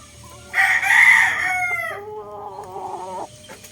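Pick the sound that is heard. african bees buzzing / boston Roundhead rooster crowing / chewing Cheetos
boston Roundhead rooster crowing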